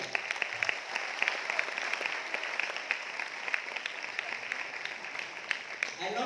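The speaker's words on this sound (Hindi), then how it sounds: "एक बार जोर से आप हम सब के लिए ताली." Hundreds of students clap together in a hall after a concentration workshop, a moderate steady patter of applause that carries on without pause through the whole stretch, slightly distant.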